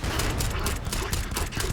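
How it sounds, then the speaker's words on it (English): Rapid, continuous automatic gunfire from a powerful gun in the video game Starfield, a dense, loud burst of shots with no pauses, heard alone. "This gun's a beast."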